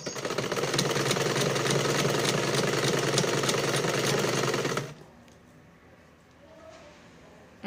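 An electric sewing machine stitching a cord, with a loud, steady, close mechanical whir for about five seconds that then cuts off abruptly into quiet room noise.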